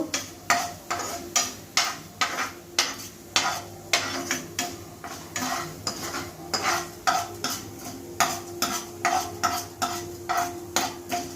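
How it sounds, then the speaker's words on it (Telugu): Coriander seeds, cumin and urad dal fry in a pan while a spoon stirs them, scraping in a steady rhythmic series of clinks and scrapes over a soft sizzle, close and with no talking. "వేసి బాగా వేయించుకోవాలండి. ధనియాలు, జీలకర్ర, మినపప్పు,"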